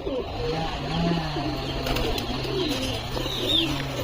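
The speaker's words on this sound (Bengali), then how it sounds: "মুন্ডি সাদা জিরিয়া ফিমেল পায়রা" Pigeons coo softly at a loft, including a white-headed female, with low repeated coos over a steady background hum and faint chirps.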